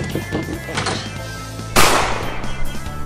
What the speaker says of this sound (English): Man, I wonder why I heard a gunshot.